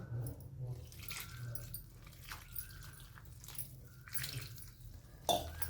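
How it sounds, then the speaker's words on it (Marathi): Water poured into thalipeeth batter made with bottle gourd, giving a faint, soft splash and trickle with some wet squishing, close by and quiet throughout. "आता आपण पाणी टाकून घेऊ"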